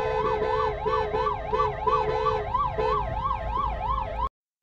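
Ambulance siren wailing in a steady rising-and-falling cycle on a road blocked by a checkpoint, loud and continuous over traffic rumble before cutting off abruptly.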